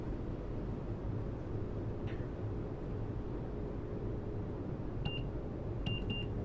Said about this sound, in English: the contact signal actually has a little noise